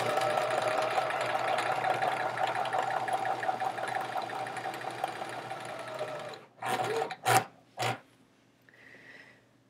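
A sewing machine stitching quilt rows together for a Charming Chevrons quilt, running in a fast, even whirring rattle for about six seconds, then a few short bursts before it stops, close up, with faint sounds afterward.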